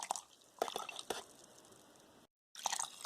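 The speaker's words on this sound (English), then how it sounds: "we're going to go ahead and add the water" Water poured into a blender jar for atayef pancake batter, quiet drips and splashy squishing pulses in a few bursts, separated by a short silent cut.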